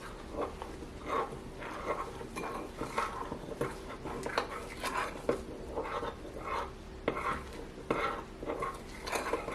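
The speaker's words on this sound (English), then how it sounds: "all I have to do is stir this together" A spoon stirs baking soda into einkorn sourdough starter in a bowl, close-up repeated scraping and clinking against the sides in a steady irregular rhythm, fairly quiet.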